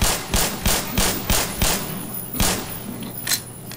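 Rapid bursts of gunfire in the video game Black Mesa, a string of sharp repeated shots in quick rhythm, fairly loud with a brief pause before a final few rounds.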